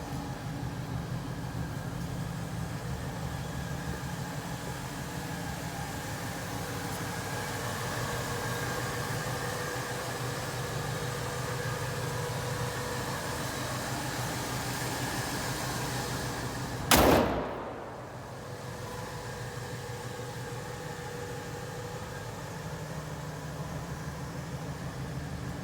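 A 1970 Cadillac Eldorado engine idles in a low, steady drone from some distance, broken once by a sharp click partway through before the even running resumes.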